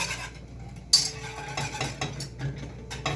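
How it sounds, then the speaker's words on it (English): A utensil stirs a mixture vigorously in a pot, scraping and clinking against the sides in a steady, busy rhythm, close and moderately loud, with one sharper knock near the start. "Now you want to just stir it like crazy for just a few minutes though."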